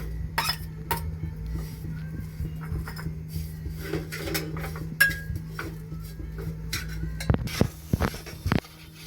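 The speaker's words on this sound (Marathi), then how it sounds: "असं मंद गॅस करून असं ढवळत राहायला लागतं" Ground coconut being stirred in a pan over a low flame for coconut burfi, with close, irregular metal spoon scrapes and clinks against the pan and a faint steady hum beneath.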